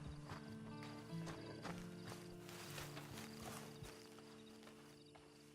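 Horse hooves clip-clop in a steady walking rhythm in the video game Red Dead Redemption 2, faint and close, over a low ambient hum.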